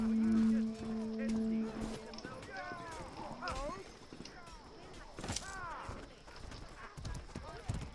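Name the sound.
horse hooves galloping in the video game Mordhau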